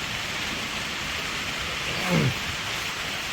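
Steady rain hissing evenly throughout, a dense continuous wash of sound with a brief low rumble rising near the end.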